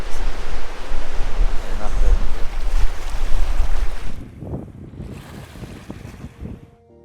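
Cold, strong wind beside a large lake in England's Lake District, buffeting the microphone in heavy, roaring gusts that drop off halfway through to a lighter rustle with faint lapping water.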